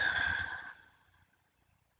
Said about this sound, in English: we'll make like a hissing note.